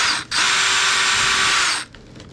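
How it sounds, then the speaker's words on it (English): A power drill works on parts of a VQ Model F6F Hellcat model airplane, one loud continuous whirring burst of under two seconds with a brief stutter at its start, then quiet. "As I drill, we'll hold this down and up in the corner."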